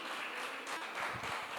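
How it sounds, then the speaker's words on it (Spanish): A church congregation applauds in praise during a sermon, a fairly quiet, dense patter of many hands clapping continuously, with a few louder claps near the end. "Dele una alabanza de aplauso"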